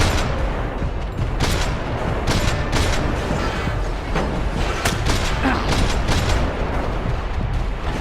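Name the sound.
grenade explosions and gunfire in video game Max Payne 3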